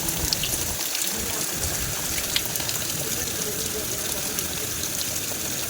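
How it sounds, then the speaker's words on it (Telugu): Heavy rain pours down outside a village house as a steady, dense hiss with scattered patters and crackles. "బయట చూస్తేనేమో ఫుల్ అంటే ఫుల్ వాన పడుతుంది."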